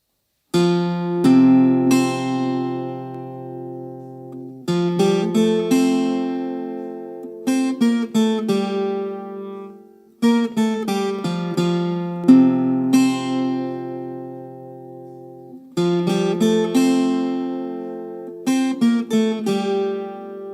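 A requinto guitar plays a song at medium speed, moderate-paced plucked phrases, each cluster of ringing notes followed by a short gap before the next.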